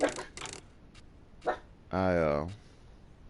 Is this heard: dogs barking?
yes